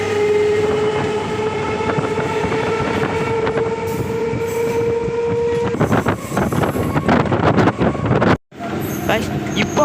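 Passenger train running between Chengalpattu and Tambaram heard from on board, a loud steady rumble with a sustained horn tone at first, then rattling wheel clatter and a brief sudden dropout; a voice talks along the way.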